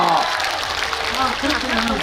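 Audience clapping and cheering at an outdoor concert for Hampyeong County Citizens' Day, a steady dense wash of applause with crowd voices and a singer's voice over it throughout.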